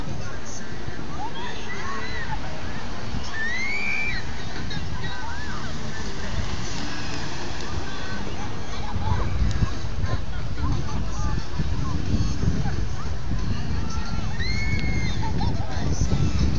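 Surf washing continuously onto Rockaway Beach in June, a steady broad wash of breaking waves that swells slightly louder partway through, with occasional faint bird calls above the roar.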